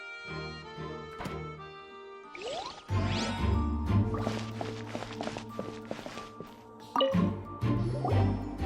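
Water drips and squishy wet footsteps on a wet floor in the video game Genshin Impact, set under layered game music and tones, with soft plops and steps recurring.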